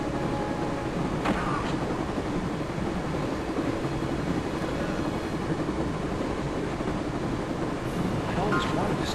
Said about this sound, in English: I always wanted to stop a train